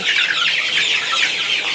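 A flock of 35-day-old Sonali super hybrid chickens clucks continuously, with many overlapping chattering calls filling a close, loud, dense bed of sound.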